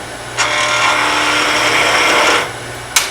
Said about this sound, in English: resting the tool against the wood, letting it cut